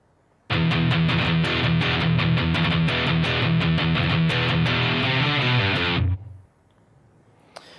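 A distorted electric guitar plays a riff of rapid alternate-picked notes with punchy accents. The loud, dense, steady passage runs about six seconds, then cuts off sharply into near silence.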